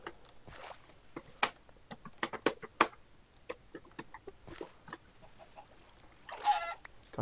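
Repeated short clucks from chickens in a video game, scattered bursts, some louder and close, with quieter gaps between and no talking.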